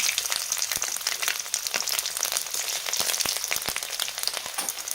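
Cumin seeds and garlic fry in hot oil for a homestyle Maharashtrian drumstick amti, giving a steady, close crackling sizzle with dense popping spits throughout and no talking.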